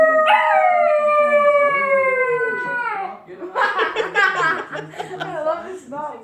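A pet dog lets out a long, loud, close howl that slowly falls in pitch, then breaks into shorter yowling cries, with a person's laughter or chatter mixed in near the end.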